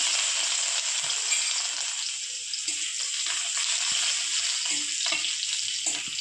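Crushed garlic sizzles steadily in hot oil with red chilies, a bright continuous frying hiss with small crackles and pops close by throughout.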